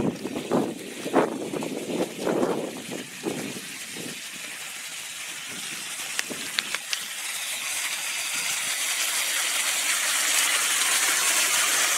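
Rainwater runs off the turf of Apple Valley Municipal Golf Course after a storm, a broad rushing hiss that swells steadily louder and more continuous toward the end.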